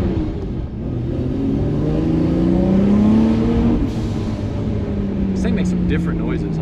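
A Nissan R32 GTR engine pulls hard from inside the car, a loud rising drone climbing steadily in pitch, then easing off with a whooshing release near the end.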